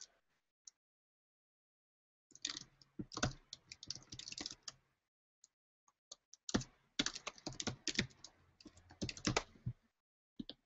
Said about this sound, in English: Sorry, I can't talk and type.